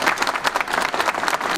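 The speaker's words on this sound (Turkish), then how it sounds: "bu harikulade yazarımızı böyle can yürekten bir alkışlamanızı rica ediyorum sizlerle" An audience bursts into warm, sustained applause for an author from Edirne at a book event, many hands clapping densely and loudly without pause.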